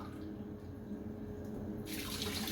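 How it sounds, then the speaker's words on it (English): Two cups of water pour from a container into a cooking pot for beef biryani, a steady close splashing stream that grows brighter and louder toward the end, with no talking. "Then I add 2 cups of water"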